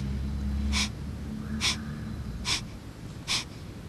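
Four rapid, forceful exhalations through the nose come at an even pace about once a second during a breathing exercise, each a short breathy snort that is close and clear over faint background noise.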